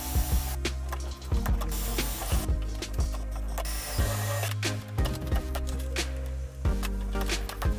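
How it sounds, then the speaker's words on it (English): Pneumatic rivet gun firing into an angled 1/8 aluminum piece on a jon boat's recessed trolling motor foot tray, a steady loud mechanical whir broken by repeated sharp pops and clacks, close up. "So we're going to rivet that in."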